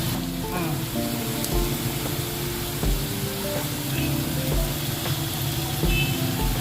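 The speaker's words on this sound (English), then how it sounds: "we just add the potatoes in our ghee and it's heating up so that it can" Steady oil sizzling and crackling of potato fries shallow frying in ghee in a pan, continuous and close, with small clicks and bumps scattered throughout.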